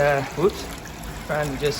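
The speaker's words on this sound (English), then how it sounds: "I'm just going to give this a quick little rinse here" Dirty water is poured to rinse out a container in a home silver-refining setup, heard as a short liquid pour and splash between stretches of close talking.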